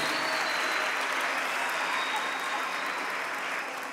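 A live audience at a Catholic priest's concert show gives a warm, dense round of applause for the singer, sustained and loud throughout before tapering slightly at the end.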